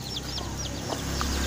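A broody joper hen clucks in a run of short, close, repeated calls over steady background noise.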